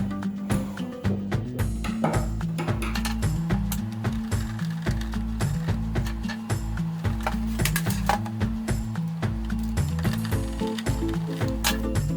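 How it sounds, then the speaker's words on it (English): Mounting screws on a HOROW T05 smart bidet toilet seat lid are tightened, producing a dense run of close, rapid ratcheting clicks and small plastic knocks in a steady rhythm. "Tighten the mounting screws of the toilet seat lid assembly."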